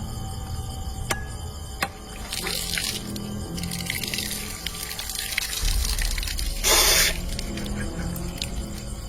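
A coconut is broken open during a funeral washing ceremony and its water splashes over a man's face, heard as dripping and a short loud gush of liquid against a steady background.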